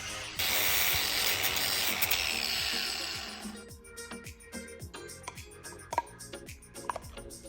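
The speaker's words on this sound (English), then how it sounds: "I start by stripping all the rusty surface off back to fresh bare metal" A power tool grinds continuously against rusty metal on a Ferrari, stripping it to bare metal with a harsh hiss, then stops, leaving scattered clicks and light scraping sounds.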